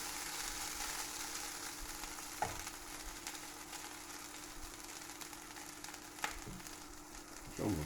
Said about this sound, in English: Burning the rice.